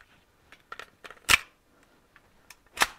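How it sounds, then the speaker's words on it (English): A magazine slides into a Hi-Point C9 pistol, with soft handling clicks and two sharp, close metallic clacks as it seats. "All right, put the mag back in."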